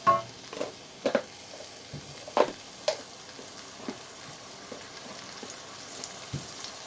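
Cinnamon, cardamom and bay leaves fry in hot oil with a soft steady sizzle and a few sharp crackles and pops near the start, fading to a quieter bubbling hiss.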